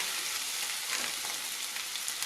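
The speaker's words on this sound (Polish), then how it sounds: "Płyn z pieczarek odparował, słychać wyraźne skwierczenie." Mushrooms sizzle steadily in a hot frying pan, a close, even crackle of fat with no pauses.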